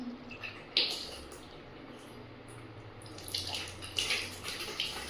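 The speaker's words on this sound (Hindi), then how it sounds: "आ गया पानी, सीरियस पानी आ गया पानी।" Water runs from a bathroom tap in a steady, faint hiss with a few splashy bursts, heard close and without talk.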